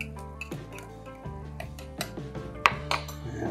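A metal utensil scraping out a tin can while cooking a cheesy hash brown casserole, a series of short clinking, ringing scrapes and taps in uneven rhythm, close and fairly quiet, with no talking.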